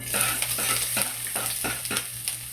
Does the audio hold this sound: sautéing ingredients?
yes